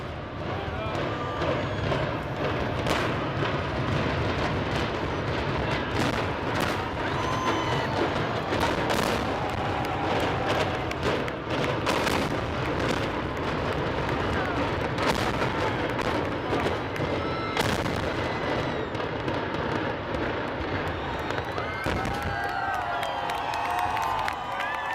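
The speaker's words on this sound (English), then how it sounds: "the Weir Brothers Demolition Company rigged the old stadium to blow" The implosion of the old Texas Stadium in Irving, rigged by a demolition company, sets off a long dense roar of crackling blasts and rumbling that runs continuously for about 25 seconds, loud and steady, with crowd noise mixed in.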